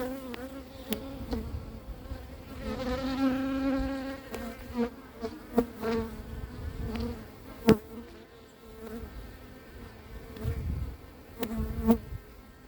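Honeybees from a swarm buzzing close around a beekeeper as he hives them at an apiary, a continuous droning hum with individual bees swelling loudly past, no talk.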